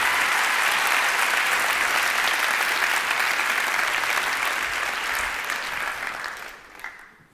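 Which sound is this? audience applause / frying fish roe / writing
audience applause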